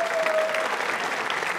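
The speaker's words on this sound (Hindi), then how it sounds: "तालियां बजाइए इनके" Steady applause from a crowd of people, continuous and fairly loud throughout.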